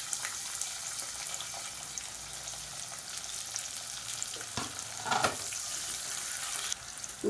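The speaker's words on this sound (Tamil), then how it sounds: "இப்போ எல்லாமே பொரிய ஆரம்பிக்குது." Spices and onions crackle and sizzle in hot oil in a steady hiss, with a few louder scrapes and pops of stirring near the end.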